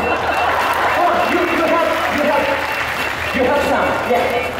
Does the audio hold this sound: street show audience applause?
yes